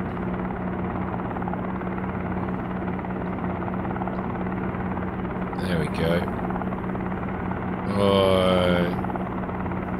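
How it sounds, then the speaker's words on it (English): A helicopter in the video game Helicopter Simulator hums with a steady, droning rotor and engine tone throughout. It swells briefly twice, near a yacht landing, while someone talks over it. "Might bring the helicopter around a little."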